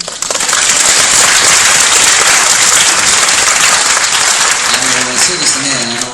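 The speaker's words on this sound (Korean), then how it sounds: "박수로 화답해 주시면" A cinema audience at a Korean screening Q&A for a Japanese comedy film bursts into loud, sustained applause for about six seconds, dense and steady before thinning slightly near the end.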